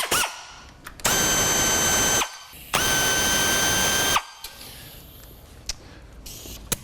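A power tool whirs in two sustained bursts, each about a second and a half long, while backing out the four screws that hold a part to the top of a transmission case. Quieter clicks and handling noises follow.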